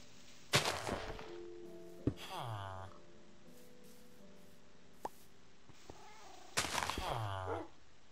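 Minecraft cat meowing in the video game: two clear, close meows several seconds apart, with faint in-game thumps and taps between them.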